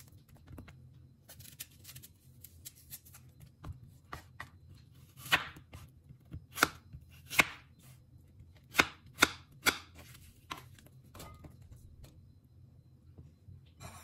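Apple cut into cubes with a knife on a board, sparse faint taps at first, then a brisk run of sharp close chops in the middle before fading back to quiet.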